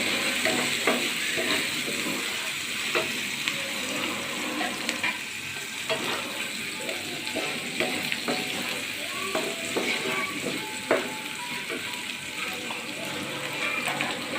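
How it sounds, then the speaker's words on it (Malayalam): Steady sizzling and frying with repeated scraping strokes of a spoon stirring salt into a mixture of leftover chapati pieces in a hot pan, continuous and close. "ഇതിനകത്തേക്ക് ആവശ്യമായിട്ടുള്ള ഉപ്പ് 1 ടീസ്പൂണ് നന്നായിട്ട് മിക്സ് ചെയ്ത് കൊടുക്കണം."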